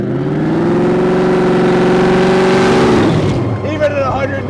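A 1927 Ford hotrod with two V8 engines roars loudly and close, holding a strong, even rev for about three seconds before the throttle drops and it falls into a rougher, burbling idle.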